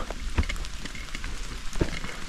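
Kettle rattling and hissing over a campfire in light rain outdoors, a steady broadband bubbling wash with a couple of louder clanks or pops, close and continuous.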